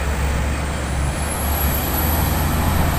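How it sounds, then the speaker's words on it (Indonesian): A FAW truck from China, carrying a load of steel on a steep road, rumbles loud and close with a steady heavy engine drone and a high whine that rises as it goes by. "Satu unit truk VAW"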